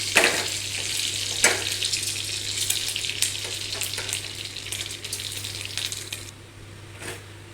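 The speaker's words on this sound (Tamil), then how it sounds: "இப்போ நம்ம பட்டை கிராம்பு இந்த ஏலக்காயை போட்டுக்கலாம்." Cinnamon, cloves and cardamom crackle as they fry in hot ghee and oil, a steady bright sizzle with a few sharp pops and light clinks, no voices.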